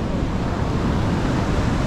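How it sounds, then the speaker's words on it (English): Ocean surf washing onto a beach at night, a steady, dense roar of breaking waves with constant wind noise against the microphone, loud and unbroken throughout. "See the waves from this place."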